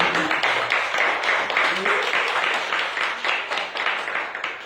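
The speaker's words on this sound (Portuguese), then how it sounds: "Dê uma salva de palmas bem forte" Congregation applause at a church service after a call for offerings, a loud, sustained round of many hands with a rhythmic pulse, voices mixed in beneath.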